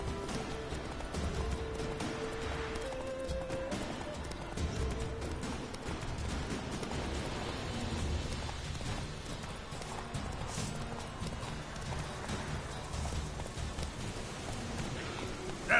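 Roach, a horse in The Witcher 3, gallops with steady rhythmic hoof clip-clops over a continuous bed of rain and ambient game sound, fairly quiet and sustained throughout.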